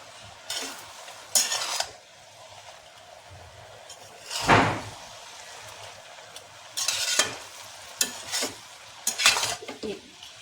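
Metal utensil scraping and stirring in a pan of soya, methi, potato and spinach sabzi, loud bursts of clanking and scraping separated by quieter stretches of low sizzling frying.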